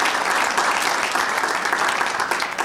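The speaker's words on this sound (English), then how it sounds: "So I think we ought to just give all the candidates a round of applause" Audience at a town committee forum applauding the governor candidates, a dense, loud and sustained burst of many hands clapping with no break, heard close and without talk over it.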